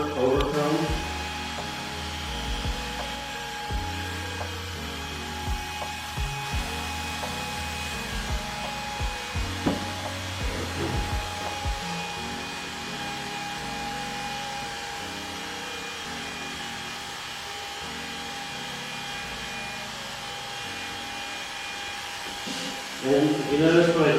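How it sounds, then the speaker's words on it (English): Electric hair clipper cutting hair with the clipper-over-comb technique in a cosmetology school, a steady close buzz running nearly throughout with brief clicks and short pauses, a voice speaking intermittently over it. "So I'm doing the clipper over comb."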